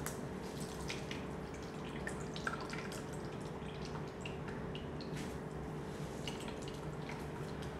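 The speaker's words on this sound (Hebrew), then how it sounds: "סחיטה אחרונה של הסיבוב האחרון, יש פה המון המון מים שיוצאים" Water drips and trickles from grated potatoes squeezed by hand for a potato pie, faint and close, with scattered small drops over a low steady background hum and no voices.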